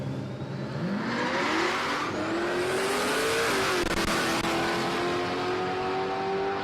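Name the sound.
drag racing cars, Holden VK Calais, at Palmyra Raceway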